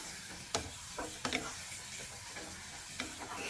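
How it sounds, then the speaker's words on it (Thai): Pork pieces are stirred in a pot of hot water on a gas stove while poaching for nam tok moo, with soft scraping stirs and occasional utensil knocks over a steady simmering hiss. "น้ำเริ่มร้อนแล้วก็เอาหมูของเราลงไปลวนได้เลยครับ"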